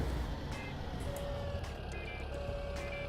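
Farm equipment in Farming Simulator 17 beeps under a steady engine drone, with thin tonal beeps recurring at a moderate, even pace throughout.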